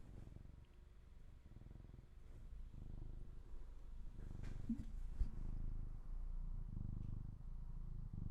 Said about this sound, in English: Can you hear him purring?